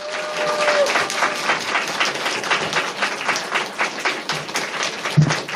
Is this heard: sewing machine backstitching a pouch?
no